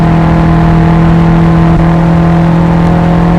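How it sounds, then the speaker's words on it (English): Steady droning car engine in a Gran Turismo 2 remake racing game, loud and constant with a sustained hum and no clear revving. "I do have a muffled engine system in the interior as well, where it doesn't sound like it does on the chase camera"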